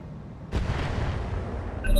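An artillery blast in the RogueTech mod of BattleTech lands as one heavy boom, followed by a broad rumbling tail, with another impact arriving at the end.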